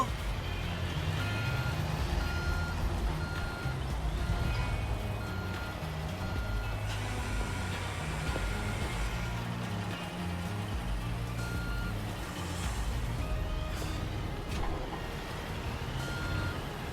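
A dump truck in the Construction Simulator video game reverses, giving a steady run of evenly spaced backup beeps over a continuous engine drone.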